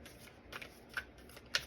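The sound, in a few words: shuffling animal spirit oracle cards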